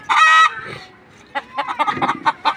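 Desi chickens in a poultry farm cage let out one loud squawk, then a string of short, close clucks and chatter, with no talk.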